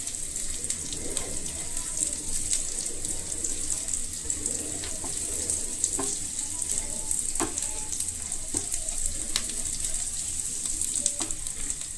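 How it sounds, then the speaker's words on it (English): Ingredients for egg fried rice fry in a pan, giving a steady, close hiss of sizzling oil with occasional light scrapes and clicks from stirring. "Now I will fry this."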